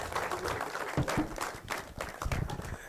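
Conference audience applauding at the launch of a farmer-led innovation fair, a dense steady wash of clapping from a crowd that carries on for the full stretch without pause.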